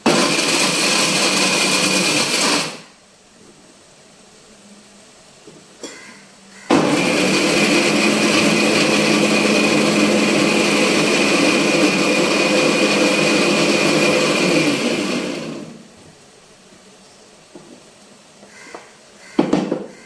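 Mixer grinder (mixie) whirring loudly in two separate bursts, the first a few seconds long and the second lasting about nine seconds, with a quiet pause and soft handling noises between and after them.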